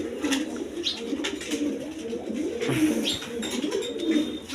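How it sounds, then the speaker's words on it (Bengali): Pigeons for sale, including a pair of racing pigeons, coo continuously in a dense, low, overlapping chorus up close, with occasional flutters and scrapes and no talk. "দেখেন কোয়ালিটি সম্পন্ন কবুতর দেখেন"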